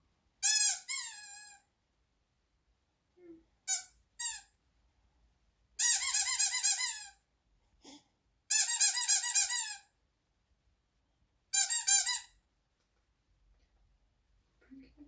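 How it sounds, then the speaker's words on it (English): A squeaky dog toy gives bursts of sharp, high squeaks, single chirps and rapid runs of several, loud and close, with silent gaps between. "Why's it squeaky toy,"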